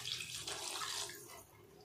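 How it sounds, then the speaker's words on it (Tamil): Water is poured into a pot of brinjal sambar while it cooks, a steady, soft splashing stream that fades out toward the end, with no voices over it. "அது கூடவே கத்திரிக்காய் வேகறதுக்கு தேவையான அளவுக்கு தண்ணி சேர்த்தறலாம்"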